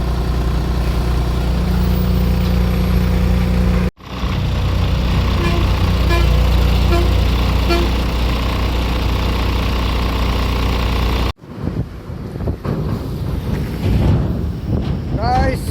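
Several vehicle engines idle steadily nearby in a traffic jam with a low hum and wind buffeting the microphone, broken by two abrupt cuts in the sound.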